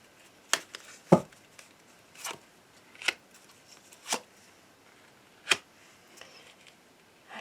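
Tarot cards are cut and shuffled by hand in a quiet room, producing a series of about seven brief, crisp riffling snaps separated by pauses of roughly a second.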